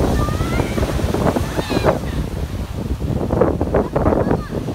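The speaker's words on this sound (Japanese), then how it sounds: "心地いい風と波" Ocean surf and breezy wind on a beach, a steady broadband wash with rolling swells and gusty rumble, with children's voices faintly mixed in.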